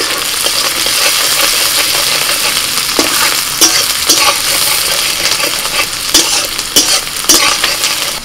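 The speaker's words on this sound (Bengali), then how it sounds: "তেলটা হয়ে গেছে, পেঁয়াজ কুচুনো দিয়ে দিই।" Chopped onions hit hot oil with a touch of ghee in a pan for a fish curry, giving a loud, continuous close sizzle with frequent crackles and occasional spatula clinks, no talking.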